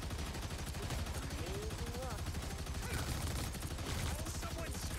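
The Punisher's deployed turret in Marvel Rivals firing continuously, a dense rapid rattle of automatic shots running the whole time, mixed with game noise and a voice talking over it.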